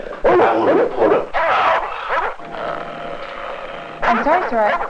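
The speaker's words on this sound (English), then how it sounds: "I'm sorry, sir. I can't hear you for all the barking." A dog barks and yips in short bursts close by, mixed with a person speaking on a telephone call.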